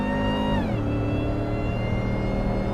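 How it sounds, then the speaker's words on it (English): A supercharged 750 hp Shelby F-150 pulls hard at wide open throttle from a slight roll, its engine note rising then dropping at an upshift, with supercharger whine and exhaust roar loud and continuous, recorded from inside. "wide open throttle from a slight dig. You can still hear the supercharger whine over all that noise in the back."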